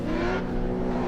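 A drift competition car engine revs loudly and steadily, a dense harsh roar with no voices over it.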